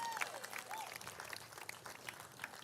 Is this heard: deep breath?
no